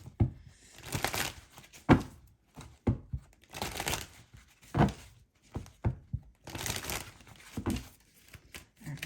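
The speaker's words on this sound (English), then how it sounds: "There's tons of cards here. Let me do a shuffle." Tarot cards are shuffled by hand over and over in loose rhythmic bursts, with papery slaps, crinkles and soft thumps up close and no talking.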